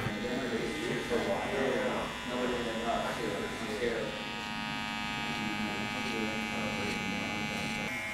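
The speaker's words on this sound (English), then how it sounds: "Then I'll work my way back up, clipper over comb, that bulk right off the ridge there." Electric hair clippers tapering the hair at the neck of a barbershop customer, clipper over comb, with a steady close buzz and intermittent changes in pitch as the blades cut, and a voice talking over it at the start.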